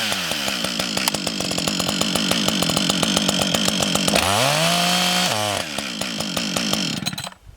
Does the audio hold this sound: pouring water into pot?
no